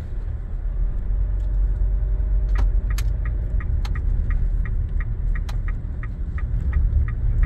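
A Nissan Serena rolls forward on its own with no throttle, giving a steady low engine-and-road rumble close by, with a few faint light clicks and taps scattered over it.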